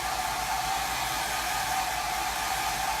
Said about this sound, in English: I'm just using my hair dryer so that it's not totally wet while I do the next transfer